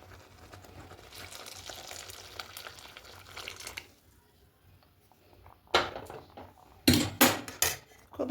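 Semolina pudding (suji payesh) stirred in a pan, a soft bubbling simmer at first, then a quiet pause followed by several sharp clinks and scrapes of a spoon against the pan.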